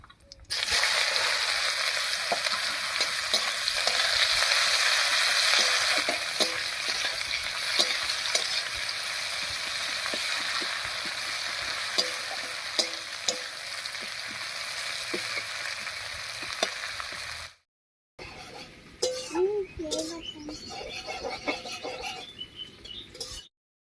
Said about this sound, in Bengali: এবারে কেটে রাখা পেঁয়াজ দেবো